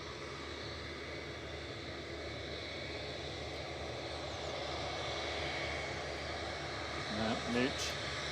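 A Turkish Airlines A321 Classic, bound for Istanbul, taxis past at Manchester Airport with a continuous, moderately loud engine whine and rumble, and a brief voice rises over it near the end.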